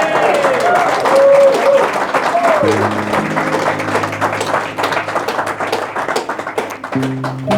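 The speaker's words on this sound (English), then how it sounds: "Another round of applause for the couple." Guests at a registry office wedding ceremony in Manchester applaud the couple, a lively burst of clapping from a modest crowd with tonal sounds and a voice mixed in beneath.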